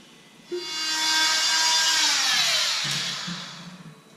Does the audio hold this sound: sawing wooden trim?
yes